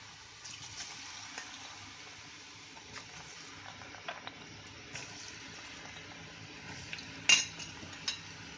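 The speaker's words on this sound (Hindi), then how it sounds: "अब इसको हम अच्छी तरह से ब्राउन कलर आने तक डीप फ्राई करेंगे।" Peanuts deep frying in hot oil in a kadai on a gas stove, a steady soft low sizzle throughout with faint occasional pops and one brief clink near the end.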